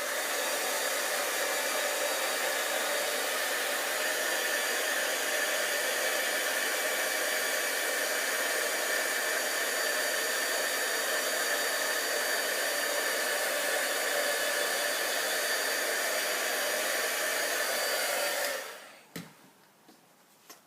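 A hair dryer blows steadily and loudly at close range to dry ink on a nail craft project, a constant whooshing hiss that cuts off near the end, followed by a few small handling knocks.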